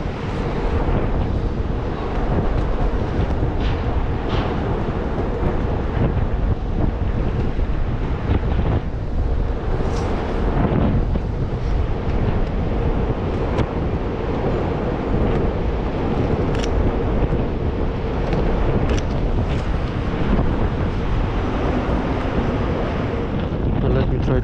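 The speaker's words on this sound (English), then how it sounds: "it's so windy" Strong wind buffets the microphone continuously on a city street in Canary Wharf, a loud low rumble with gusty bursts throughout.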